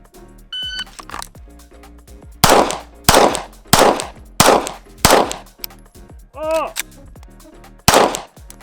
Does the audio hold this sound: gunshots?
yes